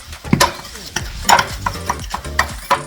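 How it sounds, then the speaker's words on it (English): Wet, squelching stirring as red clay powder is mixed into a thick homemade face mask paste, with quick scraping strokes and sticky clicks, close and continuous with no talk. "we're going to add a little bit more of the red clay powder, just to thicken it a little bit more"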